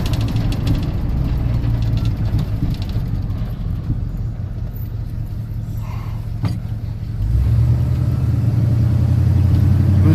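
Steady low rumble of a 1986 Chevy pickup's engine running smoothly on the road, loud and continuous, growing slightly heavier and deeper toward the end with no voices.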